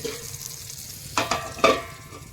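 Eggplant slices coated with egg fry in a pan with a low, close sizzle, broken by two or three sharp scraping clatters as the pieces are stirred or turned.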